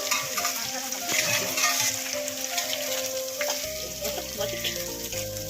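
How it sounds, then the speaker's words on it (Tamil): Colocasia (taro root) sautéing in a pan, a steady bright sizzle and crackle running the whole time, close and fairly loud, with an underlying hum that shifts partway through. "வதக்கி விட்டுக்கலாம்"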